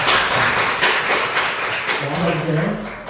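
Korean church congregation applauding during a Sunday morning service to bless a couple marrying that Saturday, a dense steady wash of many hands clapping in a reverberant hall, with voices underneath.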